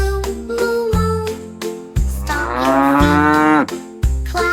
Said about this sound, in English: Baby cow, moo, moo, moo.